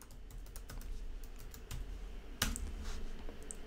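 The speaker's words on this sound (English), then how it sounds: "And then we put in our password." A password typed on a computer keyboard, a quick run of soft key taps close by over a low hum, ending with one firmer keystroke partway through, with no talking.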